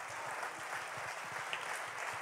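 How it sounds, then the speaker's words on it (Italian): Faint, distant applause fills a brief moment after a performance at a regional artists' contest final, a soft steady patter of many hands with no clear voices. "Goditi ancora questo applauso."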